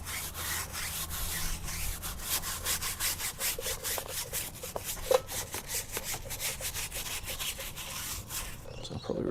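Brush scrubbing tyre cleaner into a car tyre, a rapid run of rhythmic bristly strokes back and forth, close and steady throughout with one sharper knock midway and no talk.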